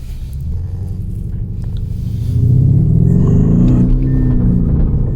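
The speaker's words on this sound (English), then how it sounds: "There's that pops and bangs." A 2023 Lamborghini Urus with active exhaust rumbles deeply, its revving swelling louder about halfway through and holding a throaty growl; no distinct pops stand out, and no one speaks.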